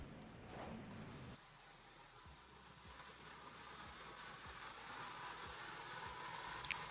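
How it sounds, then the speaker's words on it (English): A steady hiss of a Wagner paint sprayer applying top coat to furniture runs almost the whole time, starting after a short pause, with faint low knocks underneath. "I'm going to be spraying it with my Wagner sprayer."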